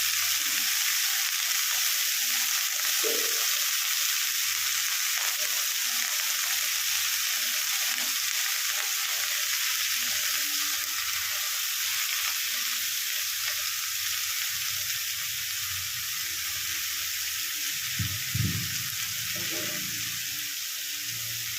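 Chopped fenugreek greens fry in a pan in a home kitchen, with a continuous bright sizzle and occasional soft stirring scrapes, close and steady for about twenty seconds.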